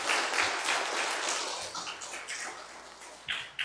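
A church congregation at a Korean Sunday worship service claps for the choir; the applause is soft and scattered, thinning out into a few separate claps toward the end.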